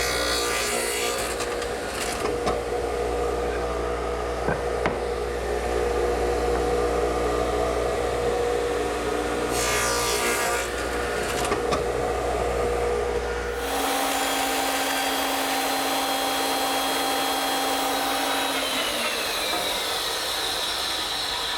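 Radial arm saw making angled tenon side cuts in a wooden workpiece for a cricket table, a loud steady motor drone with a cutting burst, then a high whine as the blade spins down alone.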